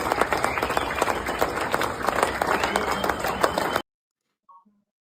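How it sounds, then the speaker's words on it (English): Applause fills a crowded airport terminal, dense and continuous for a few seconds before cutting off abruptly. "The whole airport's clapping."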